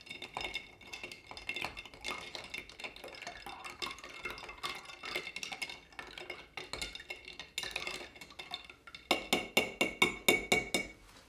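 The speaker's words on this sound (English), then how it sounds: "And we'll give that a stir just to kind of mix everything around." A spoon stirs a bourbon Christmas cocktail finished with cinnamon in a glass, giving steady soft clinks and scraping that turn into a quick run of sharper, louder taps near the end.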